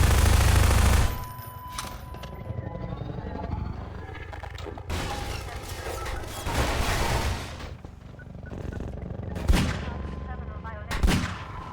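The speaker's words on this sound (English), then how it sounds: "Shoot these guys." Video-game gunfire from Half-Life 2: a loud opening burst, then scattered shots and two sharp blasts near the end over a busy game soundscape.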